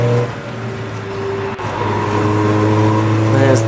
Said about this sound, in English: There's the BMW 1333, so that's the Bavarian Ravers